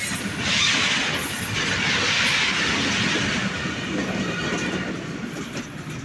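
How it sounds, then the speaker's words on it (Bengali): Petrol-carrying freight train with tanker wagons passing near, a loud sustained rolling roar with steady wheel clatter on the rails and slight screech, fading a little toward the end. "অনেক বড় একটি ট্রেন চলে গেল, একটি মালবাহী তেল।"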